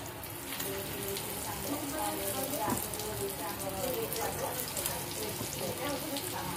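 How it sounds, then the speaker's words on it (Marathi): Suran (elephant yam) fritters crackle as they deep fry in oil, a continuous fine patter of sizzling with scattered pops. "तेलामध्ये आपल्याला छान आता असं एक एक करून चुरण टाकून घ्यायचं"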